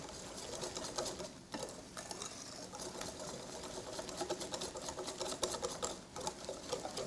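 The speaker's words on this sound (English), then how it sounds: "So now just whisk till smooth." Gluten-free pancake batter is whisked by hand in a bowl, a quiet, fast, continuous rhythmic clatter of whisk against bowl lasting about seven seconds with a couple of brief hitches.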